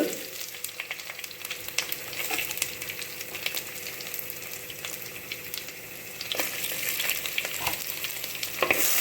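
Dried red chilies and garlic sauté in a pan, giving a dense, crackling frying hiss with intermittent spatula scrapes that grows a little louder near the end; close and with no voices.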